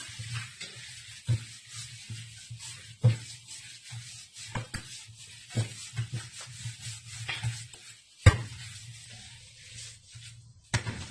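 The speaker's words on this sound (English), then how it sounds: "So I'm going to spread the dough on it mix very well." Chin chin dough is worked and mixed by hand in a bowl, producing close, irregular soft thumps, rubs and scrapes with a low hum underneath and quiet gaps between strokes.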